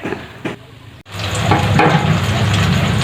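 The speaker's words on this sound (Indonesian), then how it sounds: "ini dia singkongnya udah mekar, langsung digoreng aja" Cassava pieces deep-frying in hot oil, a loud steady sizzle that swells after a brief pause near the start and keeps going alone to the end.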